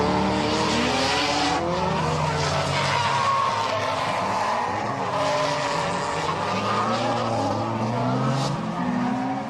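A drifting Nissan S14 Silvia with a Toyota 1JZ single-turbo engine screams at high revs, its tires squealing continuously as it slides close to the wall on a damp drift track, loud and sustained throughout.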